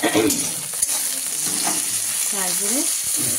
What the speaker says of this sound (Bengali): এটাকে ভাজা ভাজা করবো